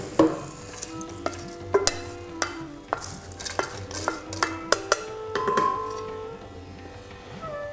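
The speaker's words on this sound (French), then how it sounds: "Et on finit le toastage avec notre coco." Shredded coconut being toasted in a pan over the heat, with a spatula stirring and scraping in repeated sharp clinks and scrapes against the metal over a faint background sizzle.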